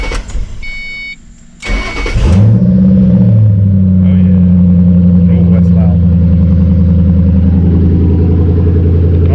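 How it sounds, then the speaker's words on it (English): Engine of a 2005 Ford Mustang GT fitted with loud mufflers cranks over and fires up, then settles into a deep, heavy rumbling idle that stays loud and close for the rest of the clip. "That's what the mufflers get you. Super duper loud."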